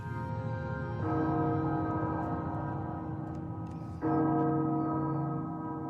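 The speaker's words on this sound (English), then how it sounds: "Castle Bell heralds danger." A deep castle bell tolls in Resident Evil Village, its long ringing resonance sustained throughout, struck again at about one second and four seconds, loud and close with no voices.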